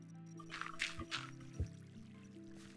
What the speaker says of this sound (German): und schon wieder läuft Wasser rein.